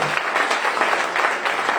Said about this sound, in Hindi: मैं एक बार जोरदार तालियां आपसे करूंगा।